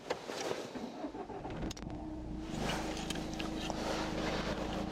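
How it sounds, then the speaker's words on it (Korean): A Renault Samsung SM5 engine turns over with a short starter whir, catches, and settles into a steady close idle hum inside the car. "자, 시동 한번 걸어 볼게요."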